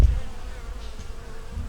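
Honeybees buzz steadily in a dense, close hum around a single deep nucleus hive in a bee yard, with no talking heard.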